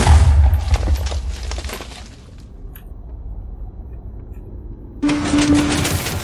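Blocky explosions of TNT in Minecraft (versions 1.18–1.19), set off while building a TNT tank, crack out loudly at the start, fade to a low rumble, then a second burst erupts near the end, with no voices.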